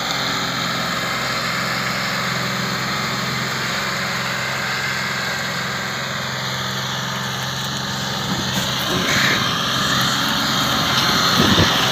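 A modified John Deere 5050E tractor engine labours while pulling an overloaded trolley through mud, a loud, steady droning roar that rises slightly in strain toward the end, with no talk.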